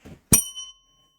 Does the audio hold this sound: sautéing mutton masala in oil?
no